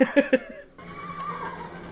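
A horse gives a quick, pulsing whinny of three sharp bursts, fairly close, followed by a lower steady background hum.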